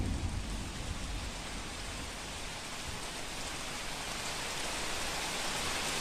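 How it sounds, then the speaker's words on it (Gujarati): Steady, dense downpour of heavy rain on the Sara-Dhrangadhra road, a constant loud roar of drops with no pauses and no voices. "આ દ્રશ્યોમાં આપ જુઓ ભારે વરસાદ છે"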